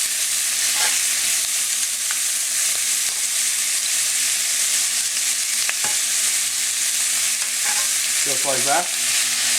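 Shrimp sizzling in a pan alongside calamari for a seafood risotto, a loud, dense, continuous frying hiss close up, with a brief voice near the end.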